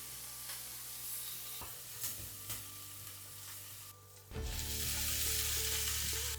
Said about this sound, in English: I'm starting off with some cumin seeds, some onions, salt, and some curry leaves.